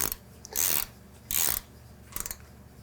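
A wrench with a Torx bit tightens the auger chain sprocket bolt on a MacDon corn header, making three bursts of sharp metallic ratcheting, close and fairly loud, with brief gaps between.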